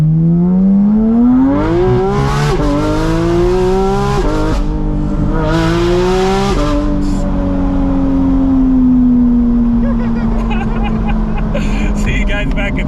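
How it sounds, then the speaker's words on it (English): A loud straight-piped Porsche GT4 RS exhaust revs up and down in rising, falling sweeps, then settles into a steady droning rumble with faint crackles near the end. "Hopefully you enjoyed the straight piped sound from that Soul Performance exhaust"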